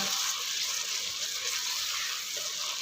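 Fresh finely chopped fenugreek leaves frying in masoor dal masala, a steady soft hiss and sizzle, close and fairly quiet, continuing evenly without talk.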